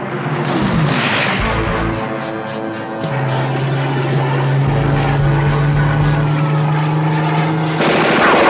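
Steady gunfire under dense engine drone and droning music, a rapid, continuous rattle that stays loud throughout, with a brief surge near the end.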